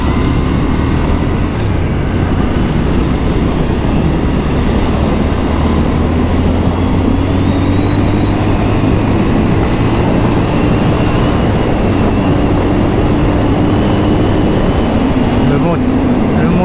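A Triumph Scrambler 1200 XE 2022 with a 90-horsepower engine drones steadily while riding, its engine note rising and falling slightly under constant loud wind rush.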